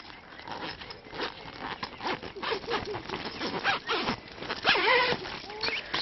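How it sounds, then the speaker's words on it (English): A zip being opened on the room of a Kampa Watergate 6 tent, a close, scratchy ripping run of teeth pulled in several short strokes, heard alone. "Excuse me while I undo the zip."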